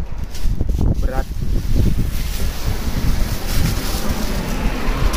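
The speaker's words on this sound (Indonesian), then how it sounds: "Tapi anginnya enak kan, sepoi-sepoi." Breezy wind blows outdoors on a spring day in Handa, Japan, buffeting the microphone in a loud continuous rumble while a person talks briefly at the start.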